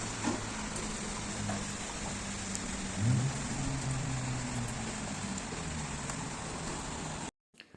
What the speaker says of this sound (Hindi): तेज़ बारिश है इस वक्त